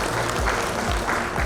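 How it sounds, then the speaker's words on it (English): Audience at an investment opportunity meeting bursts into steady, dense clapping, loud and close, filling the whole short stretch without any voices. "I want to give you congratulations and clap for them."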